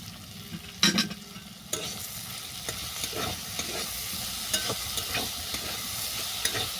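Sliced okra fries in a pan with salt, turmeric and ground sil leaf paste, stirred steadily with repeated close scraping strokes over a soft continuous sizzle, with a sharp clatter near the start.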